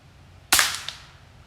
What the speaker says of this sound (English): just shot that squirrel